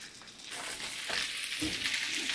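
Food frying in butter in a pan on medium-high heat, a steady close sizzle that grows a little busier partway through, with no talking.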